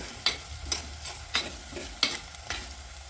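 Onions fry in a pan for a head curry, with a steady sizzle and about five rhythmic scraping stir strokes spaced roughly half a second apart, close and moderately quiet.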